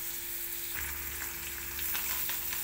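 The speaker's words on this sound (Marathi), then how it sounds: "कांदा चांगला फ्राय करून घेतलाय मस्तपैकी" Onions fry in oil for dry chicken, a steady close sizzle with light stirring scrapes and a faint low hum beneath.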